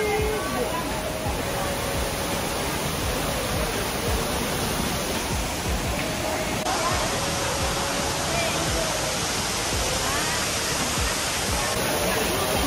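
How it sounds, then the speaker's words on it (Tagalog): A waterfall at a resort restaurant roars constantly and loudly, a dense wash of rushing water that drowns out the voices talking beneath it. "Nandito na kami sa restaurant sa waterfall."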